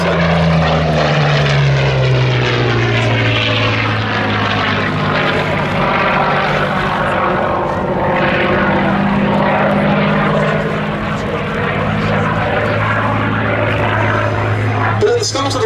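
A Curtiss P-40C Warhawk propeller fighter flies at the Duxford Battle of Britain Airshow, its piston engine giving a loud, continuous droning roar with shifting pitch as it passes, over someone talking.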